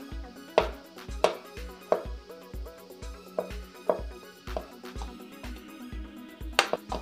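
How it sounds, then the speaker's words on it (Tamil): A knife chops musk melon into small pieces on a board, about fifteen steady evenly spaced strikes with light clatter between them, close and alone with no talk. "இப்போ இதுலேருந்து கொஞ்சம் பழம் மட்டும் எடுத்து சின்ன சின்னதாக கட் பண்ணி வச்சுக்கலாம்"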